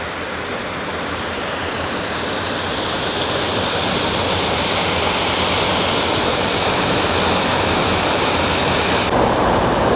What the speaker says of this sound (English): And here's the water flowing down into the creek